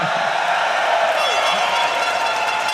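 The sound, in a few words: esports arena crowd cheering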